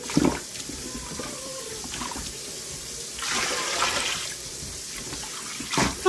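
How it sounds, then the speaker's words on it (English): Cold tap water runs into a container for rope dyeing, a steady mid-volume gush with two louder surges near the middle and end, no talking. "my daughter's putting the cold water in"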